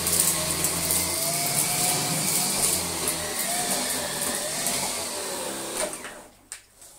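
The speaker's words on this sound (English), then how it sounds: "it's like a really big wide cordless vacuum cleaner" A big, wide cordless vacuum cleaner runs with a steady whining motor drone and a faint whistling tone, holding fairly loud, then cuts off near the end with a few clunks.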